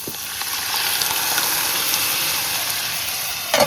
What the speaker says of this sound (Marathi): एका हातात झाकण घ्यायचंय आणि एका हातात शिजलेल्या डाळीचा टोप घ्यायचा आहे आणि मस्त तडका द्यायचा.